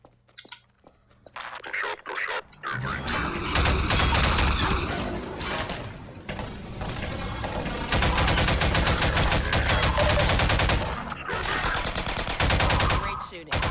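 Sustained automatic gunfire and blasts in the video game Half-Life 2 Episode 1 pour out after a quiet start, dense and loud, with brief pauses and talk mixed in.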